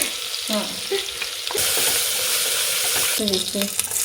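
Mustard seeds and ginger-garlic paste fry in hot oil, giving a loud, steady sizzle with spatula stirring scrapes at the start and again near the end.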